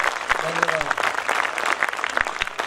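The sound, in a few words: audience applause at poetry gathering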